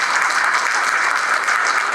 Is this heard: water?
no